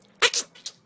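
A person imitating how girls sneeze, a voice making a quick, tiny, high-pitched sneeze sound in two or three short bursts under a second.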